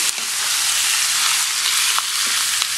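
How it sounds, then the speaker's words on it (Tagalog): Chicken and pork pieces for adobo light-fry in a pan, giving a loud, steady sizzle with occasional pops and no talking. "ito po ay medyo piprituhin lang natin ng konti."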